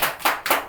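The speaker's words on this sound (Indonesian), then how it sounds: "Tepuk tangan dulu dong" A few quick hand claps in a podcast studio as a small group applauds on cue, close and fairly loud, ending almost as soon as they start, with no voices.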